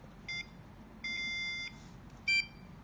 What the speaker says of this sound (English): Tobbie 2 beeps louder